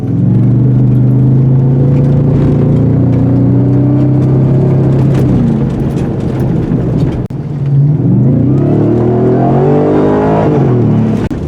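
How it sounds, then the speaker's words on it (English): A loud 2023 Ford Raptor R pickup exhaust in Baja mode drones and rumbles steadily, the engine pitch easing down then climbing again as it revs, with no talking. "you're just going to have to be limited to the Baja setting on the exhaust"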